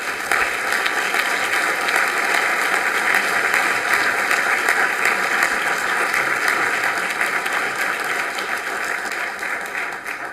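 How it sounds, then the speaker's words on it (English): A round of applause for honorees at a city commission meeting: many people clap in a dense, continuous, even patter that holds steady for about ten seconds before tapering a little at the close. "if you would join me in another round of applause for all of our honorees"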